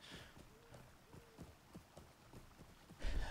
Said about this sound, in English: I forgot my horse could walk sideways.